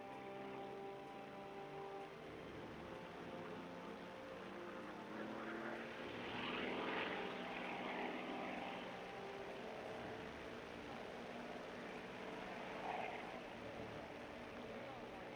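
A propeller aircraft engine drones steadily in the War Thunder video game, a continuous moderate hum that swells slightly midway, with occasional talk underneath.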